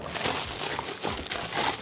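Plastic packaging crinkles and rustles close up in short, uneven bursts as a GPU water block is unwrapped.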